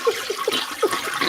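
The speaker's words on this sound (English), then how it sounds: "a toilet flushing" A toilet flushing, heard as a short burst of gurgling, rushing water with a few bubbly pulses, fairly close and alone with no talking.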